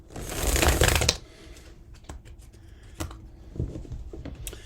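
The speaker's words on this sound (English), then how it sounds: "One more shuffle." A loud riffle of shuffling tarot cards for about a second, followed by softer taps and shuffling sounds as the cards are handled.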